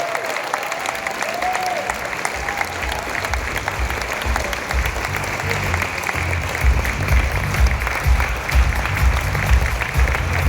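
An audience at a live cinema talk gives a standing ovation, with dense, sustained clapping from a large crowd that swells louder toward the end, and a few faint voices within it.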